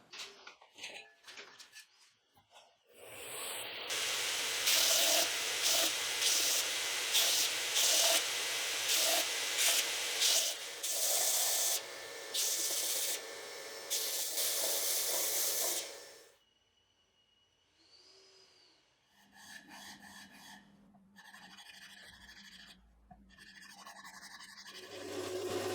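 A belt sander fitted with a 120 grit belt smooths a wooden clamp handle, running loud and steady for about thirteen seconds with shifting pressure before cutting off, followed by quieter handling noises.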